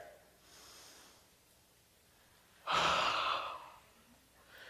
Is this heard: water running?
no